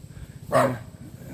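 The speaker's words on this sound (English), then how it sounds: "There goes my dog." A single dog bark rings out nearby in a backyard garden in Sarasota, a short sharp burst over a low steady background hum, with no other voices.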